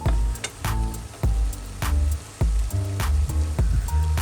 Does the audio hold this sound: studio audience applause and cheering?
no